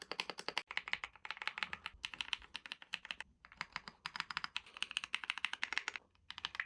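Rapid typing on a KEYZ Elite 400 AZERTY gasket-mount keyboard with an aluminium knob, dense cushioned clacks in quick bursts with brief pauses, close and clear with no talk.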